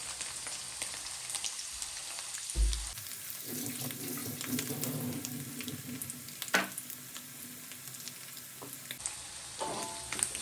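Anchovies frying in a pan over low heat give a steady soft sizzle, with a few brief clatters and a short watery splash partway through; no one speaks.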